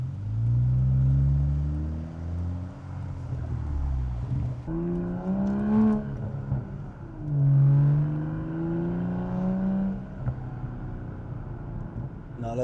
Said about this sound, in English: get some more car exhaust sounds while we're at it